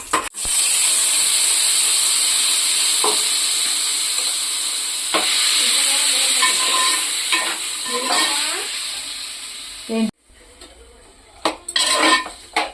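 Cut tomatoes fry loudly in a pan for tomato chutney, with a steady bright sizzle broken by metal scrapes and stirring clinks, then the hiss cuts off abruptly near the end before a few more clanks.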